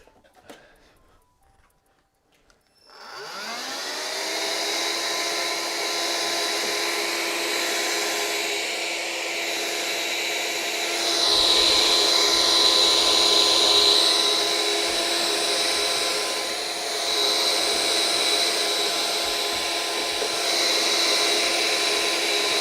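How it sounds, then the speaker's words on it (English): A vacuum cleaner sucks loose plastic debris from behind the panel of a Bambu Lab X1 3D printer, starting up after a few quiet seconds into a loud, steady whining drone that shifts slightly in pitch as it moves. "Here's my vacuum."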